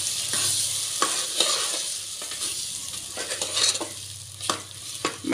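Ground masala being stirred into brinjal in a frying pan, a steady close sizzle broken by regular spatula scrapes and taps against the pan, roughly one each second, with no talking.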